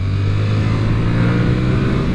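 A Yamaha MT-07 motorcycle with a 270-degree crank twin engine pulls under acceleration, a loud, steady, close engine drone with a firm low throb that holds throughout and no voices.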